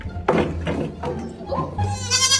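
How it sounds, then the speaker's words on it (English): A baby goat bleats several times in close succession, loud and near, with short wavering cries and a higher, longer call at the end. "This baby goat named Mocha was at his first day of middle school"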